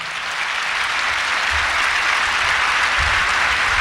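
Audience applause at a mushaira poetry gathering in Indore, a dense, sustained wash of clapping from a large crowd that holds steady and loud throughout, with no voices over it.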